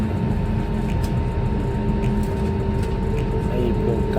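Inside a passenger airplane taxiing toward the runway at Arlanda Airport, a loud, steady cabin rumble and engine drone fill the space without pause.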